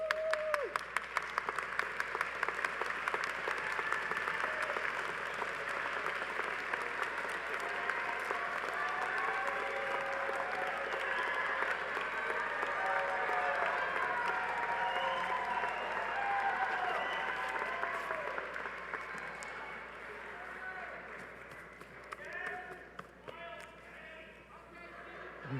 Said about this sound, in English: stand, and applaud all the people who are here tonight supporting you